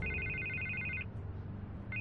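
A telephone in Batman: The Telltale Series rings with an electronic trilling tone, one long ring lasting about a second, then a pause, then the next ring starting, close and clear over a low ambient hum.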